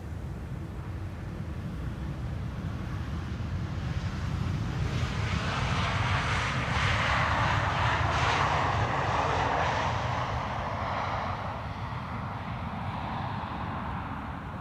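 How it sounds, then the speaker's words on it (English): An Air France Bombardier C-Series 300 arriving at Amsterdam Schiphol from Paris passes with a continuous broad jet roar that builds to a peak mid-pass and then eases off, heard alone. "Air France. Flight 1444 arriving from Paris. Bombardier C-Series 300."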